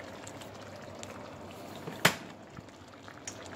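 A dish simmering on a stovetop burner set to 3, giving a steady low bubbling hiss with faint pops and one sharper crackle, heard close with no talking.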